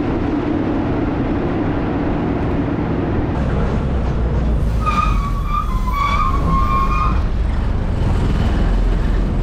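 A KSRTC bus runs on a hill road to Kakkadampoyil, heard from inside as a constant loud rumble and engine drone, with a series of horn toots partway through.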